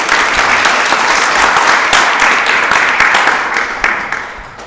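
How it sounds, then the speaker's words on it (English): An audience gives a round of applause welcoming a guest speaker at an evening talk, with dense, loud clapping that holds steady and then tapers off near the end. "If you give a round of applause."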